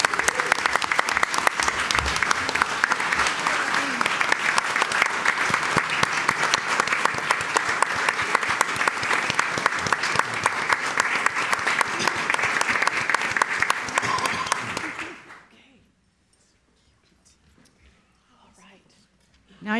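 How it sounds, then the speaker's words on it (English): A large crowd at a school board meeting claps loudly and steadily for about fifteen seconds, then the applause fades into near silence. "Can we give them one more round of applause?"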